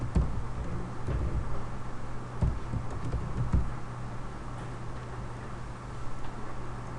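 Typing code on a computer keyboard, irregular clusters of soft key clicks over a steady low hum, no voices.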